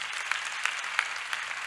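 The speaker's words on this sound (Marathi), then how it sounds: "जरा त्यांच्यासाठी टाळ्या वाजा महाराज" Audience claps at a kirtan festival in Goveli, a faint, distant patter of applause with a few sharper claps standing out over a brief stretch.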